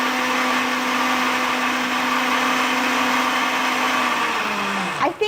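A kitchen blender blending lemon water with sugar roars at a constant close pitch for several seconds, then its motor spins down, followed by a brief clatter.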